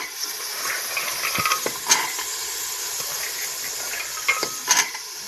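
Washed pavta bean pods hit a hot pan and sizzle with a steady, soft hiss, broken by a few sharp crackles and pops as the cooking carries on.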